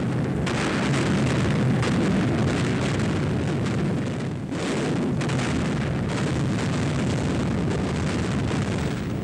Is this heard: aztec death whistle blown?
no